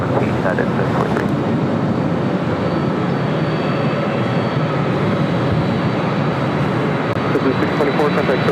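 A United Airlines Boeing 737-800 takes off at LAX, its engines a steady, loud broadband roar with a constant rumble and wind noise throughout.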